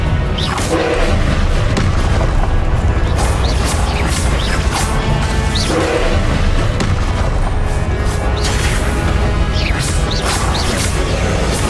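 Repeated Confringo fire-spell explosions in Hogwarts Legacy, loud booming blasts and crashes in a dense, continuous game battle mix, with strikes recurring every couple of seconds.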